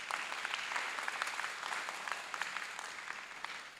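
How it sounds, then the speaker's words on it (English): An audience at an international oratorical championship claps, a sustained patter of many hands at moderate distance, fairly soft and even, without speech. "Let's give her a round of applause."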